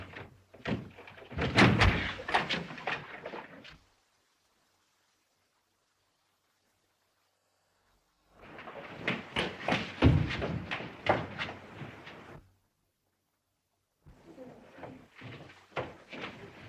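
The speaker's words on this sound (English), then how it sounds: "Let's break the door down." Men forcing open a locked door in a 1933 mystery drama, heard as bursts of heavy thuds and crashing blows against the wood, grouped in three rounds separated by silent pauses.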